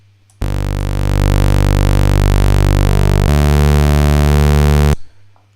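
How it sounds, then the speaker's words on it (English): A saw wave synth driven hard through a SoundToys Decapitator distortion plays one loud, buzzy, harmonically dense sustained tone for about four and a half seconds, shifting pitch partway through and then cutting off abruptly. "I loaded a distortion on that channel"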